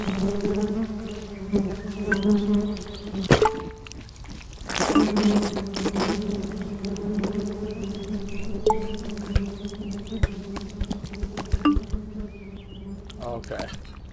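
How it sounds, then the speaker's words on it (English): Bees buzz in the video game Genital Jousting, a steady droning hum layered with game sound effects and clicks, with a person talking over it intermittently. "Wait, bees."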